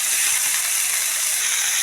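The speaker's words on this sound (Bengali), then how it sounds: "আমি এখানে আলু ফুলকপি একসঙ্গেই ভেজে নিচ্ছি, আলাদা করবো না।" Potato and cauliflower pieces fry together in oil, giving a continuous even hiss of bubbling oil up close, steady and unbroken with no talking.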